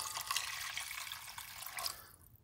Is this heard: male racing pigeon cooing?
no